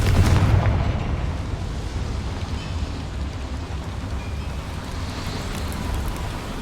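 A Confringo fire spell explodes in Hogwarts Legacy inside a small mine: a loud opening blast settles into a sustained, rumbling roar that fills the rest of the stretch with no talking.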